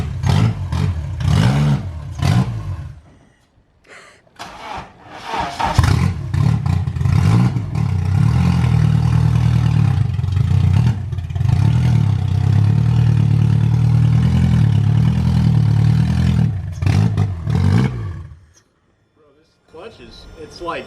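K24-swapped Subaru Impreza driving after a long rebuild, its engine loud and close, droning and rising through sustained revs with a rough edge, easing off near the end, with voices talking over it at the start.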